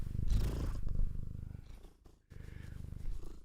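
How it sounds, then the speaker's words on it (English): A close, low cat purr rumbles continuously, pausing briefly for a breath before resuming. "You want to give him a purr?"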